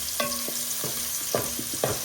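Spices with turmeric are stirred in a cooking pot for a Kerala mango curry, giving several short clinks and scrapes of a utensil at irregular intervals over a low hiss.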